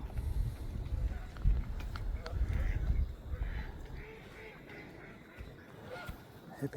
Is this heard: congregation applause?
no